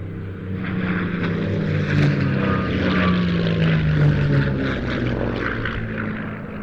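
Propeller warbirds, a Buchón and a TF-51D Mustang, fly a tail chase at the Old Buckenham airshow, their piston engines a continuous loud drone that swells slightly as they pass, with no voices.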